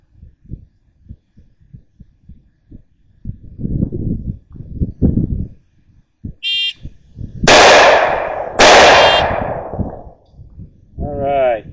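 Two loud, sharp pistol shots from a Springfield Armory Operator 9mm fired one-handed at 7 yards, close together near the end, ringing out after a stretch of quieter thumps and shuffling, with a brief electronic beep between.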